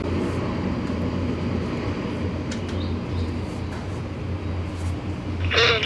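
A roughly 60-year-old Antonov An-12 takes off at Tan Son Nhat airport, producing a continuous, loud, steady engine roar that swells slightly at the end, with faint chirps over it.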